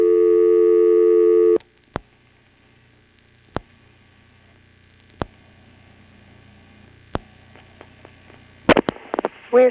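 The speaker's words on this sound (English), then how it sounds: "Now I'll dial 244, the local office code, followed by 1." Telephone dialing on a 1977 NX1-E crossbar exchange in Vanceboro, North Carolina: a steady tone cuts off, then sharp isolated clicks arrive at spaced intervals, ending in a rapid burst of pulses, heard alone without talk.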